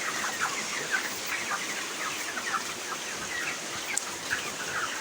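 Broiler chickens at about 33 days old cluck softly and steadily in a farm shed as they are weighed, with a constant background hum and no talk.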